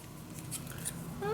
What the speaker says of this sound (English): I'm gonna cut this in half